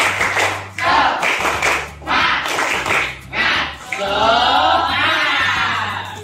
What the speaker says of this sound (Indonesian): Kita tepuk semangat, sudah Pak?